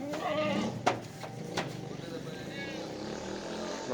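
Rajanpuri goats give short bleats at a goat farm, a few brief calls standing out over steady background noise and faint voices.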